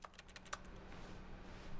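Fast, uneven key taps while playing The Stanley Parable, a quick cluster of light clicks near the start and then sparser soft presses, faint and close with no talking.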